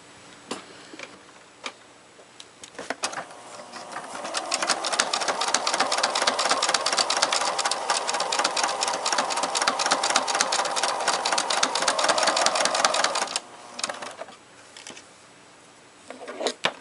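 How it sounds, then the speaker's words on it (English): Sewing machine stitching a small fursuit eye piece, a fast, steady mechanical ticking that runs loud and close for about nine seconds, with softer handling noises before and after. "I'm going to sew this small piece."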